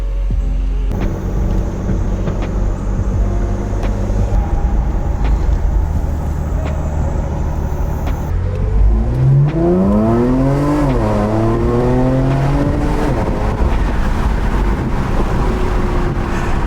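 A large modern car with a panoramic roof drives along, its engine droning steadily under road and wind noise, then the revs climb and sweep up and down through gear changes as it accelerates hard.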